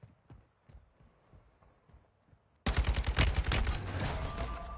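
Gunfire erupts in the video game Call of Duty Warzone 2: after a quiet stretch of faint footsteps, a sudden loud burst of rapid automatic shots and explosions fills the last two seconds.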